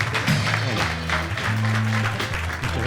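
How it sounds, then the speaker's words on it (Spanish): Brief applause from a studio audience welcoming a guest onto a talk show, mixed with low tonal hum and crowd murmur, fairly dense but short. "vamos a recibirlo con un fuerte aplauso"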